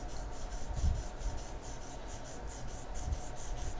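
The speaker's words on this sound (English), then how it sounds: "I just use the side of my pencil, and I kind of go zip" Graphite pencil shaded on paper with the side of the lead, a soft continuous scratchy rub with a few quick stroke bursts, close and fairly quiet, no talking.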